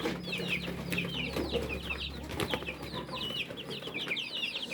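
Young Rhode Island chicks in a backyard farm cluck and chirp in a busy, overlapping chorus close by, with rustling and a low background hum.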